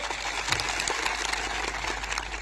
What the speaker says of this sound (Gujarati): આજે આ મંચ પરથી એમના માટે જોરદાર તાળીઓ પાડી લો